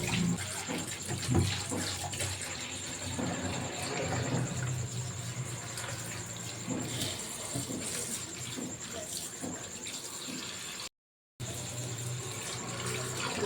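Water runs and splashes as spinach leaves are rinsed, a continuous sloshing close by with a brief silent gap near the end.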